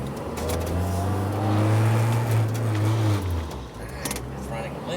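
A Honda Civic EK9 with a Spoon build idles and revs close by, a low steady engine drone that swells and settles, with someone talking over it.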